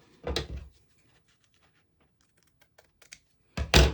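Scissors cut stretch fabric at a 45-degree angle for a maxi dress, making a few close, crisp snips and light clicks with quiet gaps between them.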